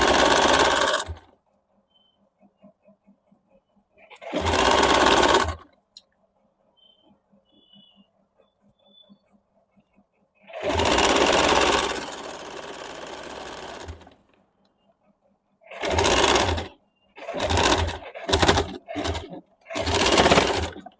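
A sewing machine stitches the bottom seam of a suit, running in several loud bursts: a few longer runs of a second to three seconds, then a quick series of short spurts near the end, with quiet pauses between.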